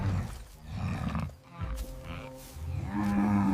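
A cow moos in low, drawn-out calls, one tonal bellow rising near the end, with some rustling and background noise around it.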